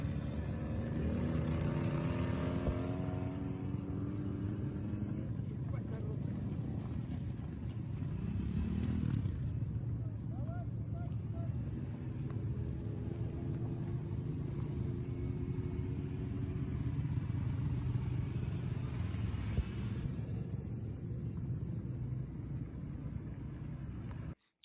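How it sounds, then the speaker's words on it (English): Motorcycles carrying Russian infantry ride through fog near Pokrovsk, their engines a distant, steady droning rumble that rises and falls over about twenty-five seconds with no talk. "Lots of the infantry on motorcycles."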